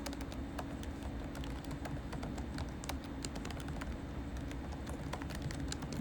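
Steady, brisk computer keyboard typing to correct a typo, a continuous patter of light clicks over a noisy background, fairly close, no talking.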